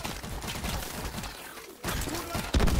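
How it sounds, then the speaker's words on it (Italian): Explosions and gunfire in the video game Call of Duty Advanced Warfare, a dense stream of blasts and impacts with a sharper burst near the end, loud and continuous, without talk. "cos'è sta esplosione qui?"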